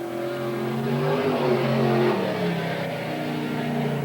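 A 1983 Rayburn-chassis race car with a 388 V8 on a qualifying lap at Willamette Speedway, its engine roaring steadily with rising and falling revs as it passes, loud and continuous with no voices.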